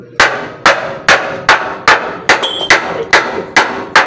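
Ten evenly spaced metallic hammer blows ring out close and loud, each strike sharp with a short decay, as a part is knocked into place while assembling a clutch.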